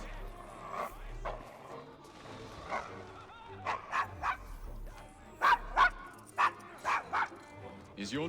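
A dog named Desmond barks at strangers in the Victorian London streets of Assassin's Creed Syndicate, sharp yips and barks arriving in bursts that grow louder and closer toward the end, with voices heard beneath them.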